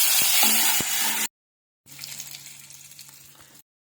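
Dried red chilies and curry leaves dropped into hot oil for a gongura dish give a loud, bright sizzle that cuts off abruptly, then returns as a softer, steady crackle after a short silence.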